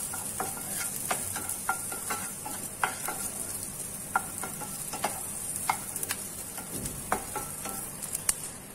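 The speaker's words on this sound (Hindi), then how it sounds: "शिमला मिर्च भी जो है वो अच्छे से भून चुकी है" Capsicum stir-frying in a pan for kadhai paneer, a bright steady sizzle punctuated by repeated clicks and scrapes of a spatula, close and without talk.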